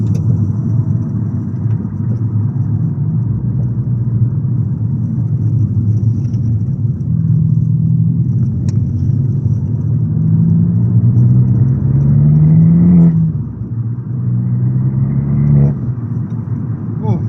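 An Abarth's Toyosports sport exhaust roars steadily from inside the cabin, its raspy, aggressive note rising and falling as it accelerates on the road, loud and continuous throughout.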